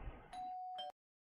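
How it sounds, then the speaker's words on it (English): A fire station doorbell for raising the alarm gives a single loud electronic ding-dong, a bright sustained tone followed by a second quick strike, then cuts off to silence. "So this is the doorbell that you ring for the alarms."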